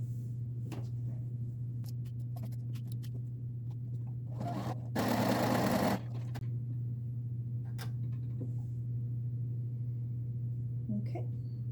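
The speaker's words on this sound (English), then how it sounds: "we are going to sew it on to here. Sew it long edges together." A sewing machine stitches the long edges of a fabric rectangle together in a short, steady burst of whirring lasting about a second, set against a constant low hum and scattered faint clicks.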